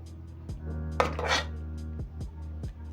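A spoon stirs milk into simmering mrenda, a leafy vegetable stew, in a cooking pot, with soft scraping and a few light metallic clinks against the pot over about three seconds, close by and moderately quiet.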